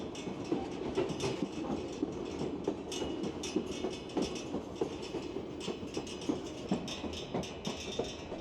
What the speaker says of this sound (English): the train winds its way through the peaks and valleys of this majestic land